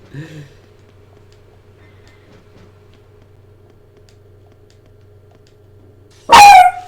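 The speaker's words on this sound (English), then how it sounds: "there's going the dog breaking the silence by murdering my ears" A dog barks in the video game Labyrinth of Galleria, a single loud sharp bark that bursts out suddenly near the end after several seconds of near silence with only a faint low hum.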